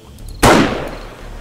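A single sharp, loud gunshot from a sniper rifle in the survival game 7 Days to Die, with a hard attack and a short rumbling decay, heard alone.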